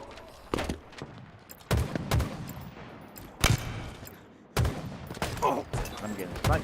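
Rapid bursts of gunfire from a Halo multiplayer match, sniper rifle shots cracking among fusillades of other weapons, loud sharp reports at irregular intervals with brief gaps between volleys, and players talking in between.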